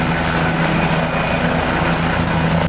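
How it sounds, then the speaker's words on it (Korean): A helicopter in the Korean zombie film #Alive rises beside an apartment block, with a loud, continuous rotor and engine drone holding steady throughout. "갑자기 두 사람 뒤에서 헬기가 나타난다"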